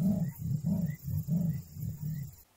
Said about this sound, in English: Number 30 was a sawing leopard.